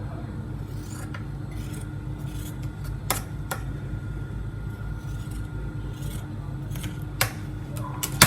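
Scissors trimming fabric while sewing trousers, a few short crisp snips scattered over a steady low fan-like hum, close and fairly quiet.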